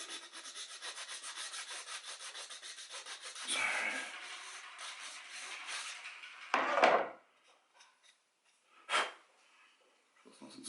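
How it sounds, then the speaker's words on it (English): Hand sanding a wooden surface smooth: steady rasping back-and-forth strokes up close for several seconds, then a few separate louder scrapes with quiet gaps between them. "let's try to sand this down a bit so it makes it nice and smooth"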